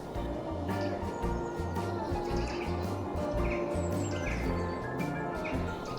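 Wild bird calling in a winter woodland, likely a nuthatch or great tit: repeated thin, high chirps scattered over a steady, fairly loud mid- and low-range background, with no speech.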